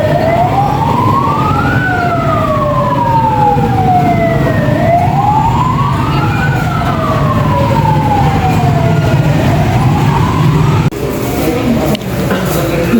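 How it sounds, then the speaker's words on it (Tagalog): Fire truck sirens from a firefighters' motorcade wail loudly and continuously, their rising and falling tones overlapping as the trucks pass close by amid road traffic. "Nag-motorcade ang mga bumbero dahil summer na."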